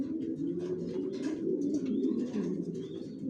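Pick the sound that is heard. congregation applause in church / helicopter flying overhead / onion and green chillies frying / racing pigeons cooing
racing pigeons cooing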